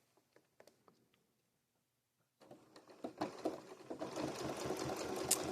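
A sewing machine driven by a foot pedal stitches a blanket stitch binding on a quilt. A few faint clicks come first, then a steady, rapid mechanical chatter of stitching builds and holds to the end.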